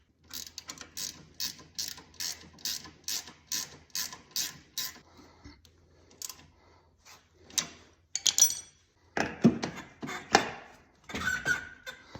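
A ratchet cranking a bolt on a snowmobile's upper idler bracket, with a rapid, even series of close clicking strokes, then a pause, scattered metallic handling noises and a few louder, irregular ratchet bursts.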